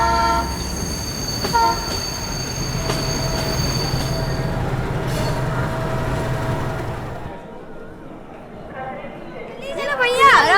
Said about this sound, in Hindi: दिल्ली जाने वाली 12402 अनाउंसमेंट भी हो गई। अभी 10 मिनट में हमारी ट्रेन आ जाएगी।